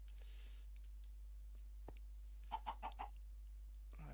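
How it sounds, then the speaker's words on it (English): A Minecraft chicken gives a quick run of four soft clucks close by, with faint clicks and low background hum around it. "All the chickens around here at the moment."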